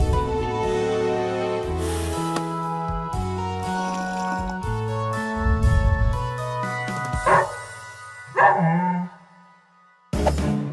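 A cartoon puppy in a children's three-little-pigs story barks several times over bright, bouncy music, the barks loud and close with brief yips near the end.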